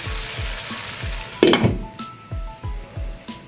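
Chicken with cabbage (band gobhi) sizzles gently in a covered pot set on dum. Soft rhythmic low thumps repeat steadily, with one brief metallic clink partway through and no talking.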